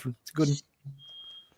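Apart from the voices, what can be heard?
smoke alarm beeping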